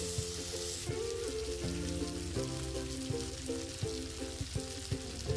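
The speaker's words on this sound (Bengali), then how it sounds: "এবার ভালো করে নেড়ে আলুগুলোর সাথে মশলাগুলো মিশিয়ে নিচ্ছি।" Potatoes sizzle in a pan with spices while being stirred, a steady close frying hiss broken by repeated knocks and scrapes of the stirring spoon.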